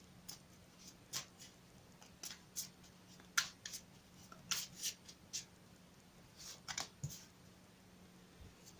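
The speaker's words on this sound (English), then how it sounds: "I'll shuffle them again for you on camera" Romance Angels oracle cards are shuffled in short, crisp bursts of riffling and flicking, a dozen or so quick snaps spaced irregularly against quiet background hum, close and fairly soft.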